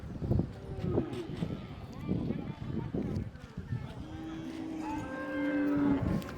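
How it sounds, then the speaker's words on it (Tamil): Cattle tied up in a large group of over a hundred at a Pongal festival in Jaffna low and moo repeatedly, with several long drawn-out calls near the end, while people talk close by. "100க்கும் மேற்பட்ட மாடுகள் கட்டப்பட்டு நிற்கின்ற அந்த காட்சியை வந்து நாங்கள் பார்க்கின்றோம்"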